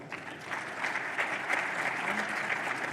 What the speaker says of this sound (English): A big round of applause for our speakers